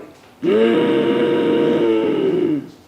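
Ujjayi pranayama breathing done through the constricted throat during a yoga routine for thyroid health, heard as one long, steady, hoarse rushing breath lasting about two seconds, close and fairly loud, with no talk over it.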